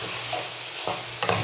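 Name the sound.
stirring egg curry in a pan with salt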